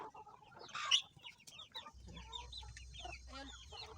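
Rhode Island Red rooster calling close by in a farm yard, a short burst of clucking and a brief crow-like cry over faint bird chatter and a low background hum.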